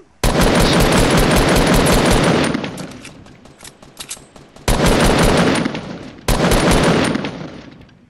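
Loud bursts of automatic gunfire in three long volleys, rapid and dense, with brief quieter gaps between them and no talking.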